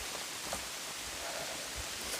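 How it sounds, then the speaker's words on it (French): Rain falls steadily on a hiking trail in the dark before dawn, making a soft, even hiss with faint patters close by and no talking. "Hike out in the rain. Il pleut, je suis tout équipé."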